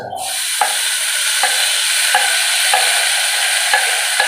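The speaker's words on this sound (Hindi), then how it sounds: "अभी प्याज ब्राउन हो गया तो अभी हम इसमें डालेंगे टमाटर" Browned onions frying in a pan with tomatoes going in, a loud, steady close-up sizzle broken by about six regular scrapes of a spoon stirring through the pan.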